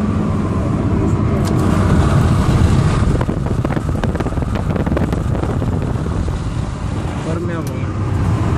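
Steady road and wind noise from a Mahindra TUV 300 compact SUV driving on the road, a constant loud rumble with microphone buffeting, as people talk over it.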